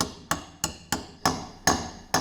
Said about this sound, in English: I go to the gym by inlaying with hammer and chisel